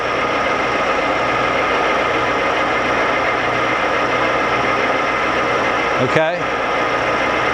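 A Lagun FVA-5LA geared-head milling machine with a 50 taper runs on quill feed, a loud steady mechanical hum and whine that continues throughout, with a brief clunk near the end and a short spoken word.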